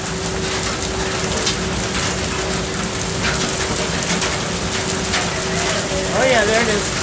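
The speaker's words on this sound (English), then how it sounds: "We got hail now. Oh, it's really coming down hard now." Hail falls hard outdoors, a dense, steady patter and rattle on surfaces that stays loud and continuous throughout, with a faint voice near the end.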